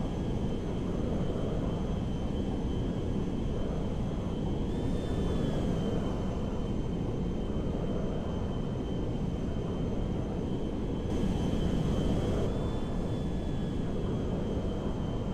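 Boeing 747LCF Dreamlifter from the GTA 5 video game in flight, a steady, continuous engine roar with a constant high whine, droning evenly throughout without pause.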